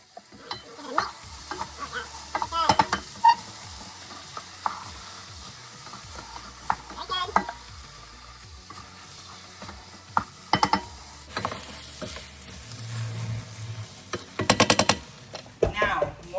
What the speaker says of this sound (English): now what I'm going to do is I'm going to add the rice